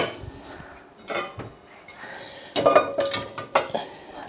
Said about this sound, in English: and then just pop in the pans that I've used